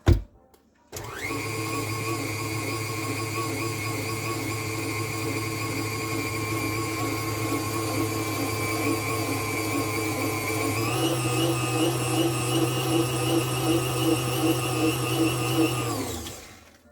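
A stand mixer with a whisk attachment whips fluff, its motor starting abruptly and whirring at a steady pitch, then stepping up to a higher speed for the last several seconds before winding down.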